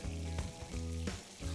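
Pork sizzles and crackles in a hot pan, with quiet stirring scrapes at a slow, uneven rhythm.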